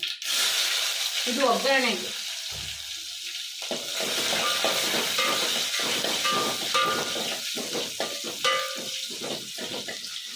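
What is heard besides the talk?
onion frying in hot oil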